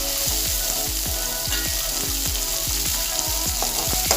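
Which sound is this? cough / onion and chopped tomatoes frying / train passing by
onion and chopped tomatoes frying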